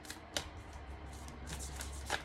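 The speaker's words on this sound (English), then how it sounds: "when I started shuffling the tarot deck" Tarot cards shuffled in quick riffling bursts, fairly close and soft, with a couple of sharper snaps between rustling passes and no talk.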